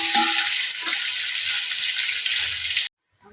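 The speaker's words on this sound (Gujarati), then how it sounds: "બટેટાને આપણે તેલમાં થોડા થોડા પીળા થઈ જાય ત્યાં સુધી દેવા દઈશું" Potatoes frying in hot oil for dum aloo give a loud, steady sizzle that runs without pause for about three seconds, then cuts off abruptly into near silence.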